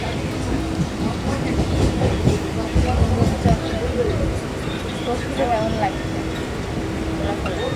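A Habra-bound local commuter train out of Sealdah rumbles along with a steady low roar and faint clatter of the wagons, while people talk quietly on board.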